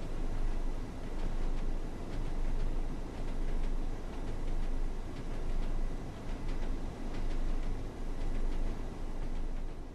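A Class 101 diesel mechanical multiple unit train in Train Sim World 2 produces a steady low rumble and a broad wash of rolling noise with faint repeated clicks, continuous and moderately quiet throughout.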